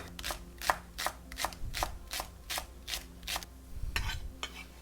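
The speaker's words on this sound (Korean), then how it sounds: "오늘 대파는요 동그랗게 송송 썰으세요 얇게" A knife slices a green onion into thin rounds, with quick, regular taps on a cutting board, about a dozen crisp chops in a steady rhythm, close and fairly quiet, with no voices.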